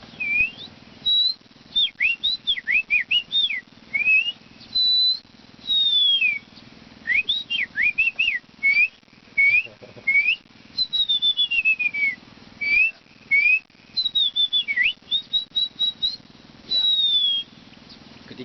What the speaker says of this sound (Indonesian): Mungkin Anda pernah mendengar yang namanya burung kacir.